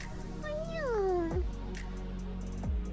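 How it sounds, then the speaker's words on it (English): A cat gives one drawn-out, falling meow close by over steady background noise, then a couple of soft chirps follow. "Lovey cat."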